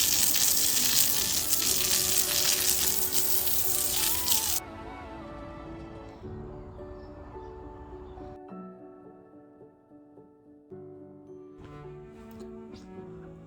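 Water spray washing a backyard wall: a loud steady hiss of hose spray for several seconds, then quieter dripping and splashing with faint intermittent spray afterward.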